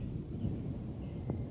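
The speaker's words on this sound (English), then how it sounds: "And the thunder rolls through the clouds." Thunder rolling through the clouds before a tornado, a low, steady rumble that stays fairly faint and distant, with no talking over it.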